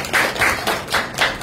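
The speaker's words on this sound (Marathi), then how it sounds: "टाळ्या बसायला" Audience clapping at a Buddhist gathering marking Samrat Ashoka Jayanti, about five slow, evenly spaced claps close by, each a soft, broad thump of hands, with no voices.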